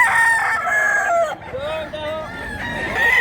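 A rooster at a hillside fowl farm near Mantalungon, Cebu crows loudly and close, one long harmonic cock-a-doodle-doo followed by more crowing and clucking from other birds, with no talk.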